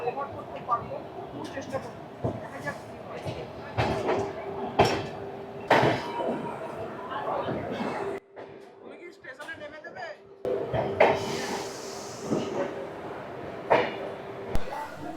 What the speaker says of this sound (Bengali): তো ফাইনালি ঢুকে গেল ধানবাদ জংশন।